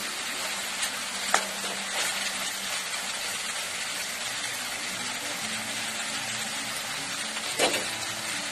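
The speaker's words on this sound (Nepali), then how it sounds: "यसलाई चाहिँ अझै भुट्नुपर्छ" Chicken curry fries steadily in a pan, a continuous close sizzle with a couple of sharper clatters from stirring, no voices over it.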